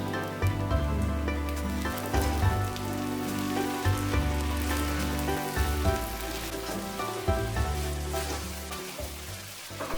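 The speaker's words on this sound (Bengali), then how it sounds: "রাইসটাকে একটু নাড়িয়ে চাড়িয়ে ভালোভাবে মশলাগুলোকে মিশিয়ে নিতে হবে।" Fried rice with green chili, fried chicken and capsicum being stirred in a pan, a continuous crackling sizzle with dense rain-like patter, overlaid by steady low tonal hum and faint background music-like tones, no voices.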